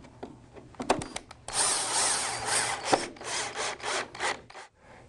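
A power drill whirs in short bursts, then runs steadily as an installation screw is driven into wood, followed by a few more brief spurts and some rubbing.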